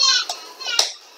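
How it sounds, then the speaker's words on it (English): Children's voices carry faintly in the background of a room during an unboxing, indistinct chatter with a brief sharp knock partway through. "I'm really sorry if you can hear my kids in the background."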